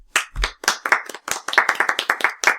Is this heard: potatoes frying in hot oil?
no